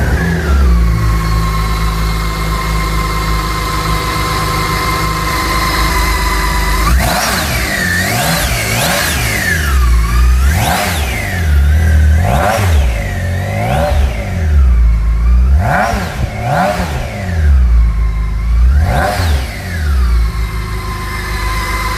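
BMW K1600 six-cylinder motorcycle engine idles steadily, then revs repeatedly in rising and falling blips, loud and close, with no voices.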